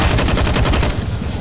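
Rapid automatic gunfire from a Counter-Strike match at the IEM Katowice Major 2019, a loud, dense burst of shots in quick succession that tapers slightly toward the end.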